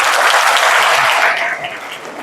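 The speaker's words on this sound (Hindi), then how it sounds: "राहुल के लिए ताली बजाओ तो एक बार जोरदार" An audience in a classroom or lecture hall bursts into loud, dense applause for a student, which fades slightly toward the end.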